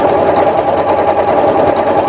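Sewing machine stitching decorative star patterns at a fast, even mechanical whir with rapid needle ticks, close and loud and running steadily for about two seconds with no voice.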